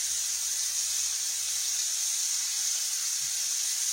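A steak frying in a skillet gives a steady, even hiss and sizzle that runs without a break and stays close and fairly loud. There is a faint low bump near the end and no talking.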